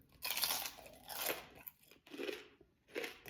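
Crunchy chewing of steamed galunggong fish comes up close in four distinct bursts of crisp biting and munching separated by brief pauses, with no talk.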